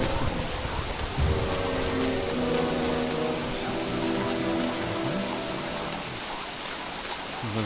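Steady hissing rain in the video game Don't Starve, a continuous soft wash of noise with faint tonal game music running underneath and no voices.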